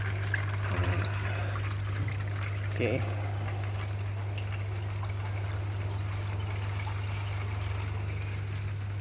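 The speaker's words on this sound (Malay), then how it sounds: "Aliran air laju guys" Water rushes steadily from an opened wall valve into a filter tank, a constant hissing flow under a loud electrical hum, with a brief spoken word near the start.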